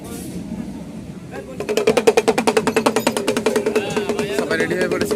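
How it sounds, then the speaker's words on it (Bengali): A train pulls into a station with a loud, fast, steady rhythmic pulsing that builds and holds, while people talk nearby. "ট্রেন এসে গেছে দেখতে পাচ্ছ"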